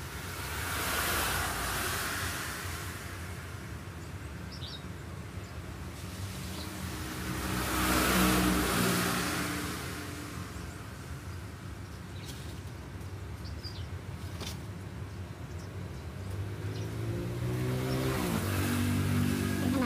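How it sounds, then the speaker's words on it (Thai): Cars drive through rainwater on a wet road in Bang Phli, Thailand, after heavy rain. A continuous spray hiss swells loudly as each vehicle passes, with about three big surges and engine rumble between, and nobody talking. "พอรถเหยียบน้ำฝนมันก็จะมีเสียงดัง"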